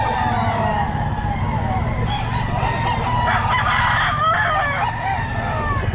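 A Sweater gamefowl rooster at the Bocaue pet market crows against a busy, noisy market backdrop, with steady crowd murmur and other fowl calling around it.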